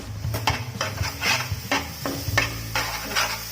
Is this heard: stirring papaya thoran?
yes